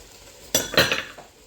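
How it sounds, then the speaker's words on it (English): A spoon stirs a pot of chicken stew with carrot, green beans and green pepper: two or three quick, close scraping strokes with a soft clink. "And then I just give everything a good stir"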